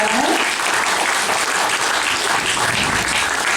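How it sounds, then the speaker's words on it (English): A warm, steady round of applause from a concert audience welcoming tenor Do-seok Yang at a Korean art song evening, dense and loud clapping filling the room throughout. "Please help me welcome Do-seok Yang with a warm round of applause."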